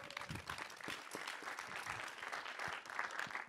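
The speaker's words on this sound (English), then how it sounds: "let's give her a round of applause" Conference audience at a panel on Germany's workforce gives a round of applause, a sustained crackle of many hands clapping, fairly distant and even, with no talk over it.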